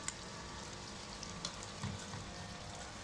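Pre-fried chicken pieces being slowly browned in a masala gravy in a pan over medium heat, a faint, steady sizzle with soft stirring scrapes, no talking.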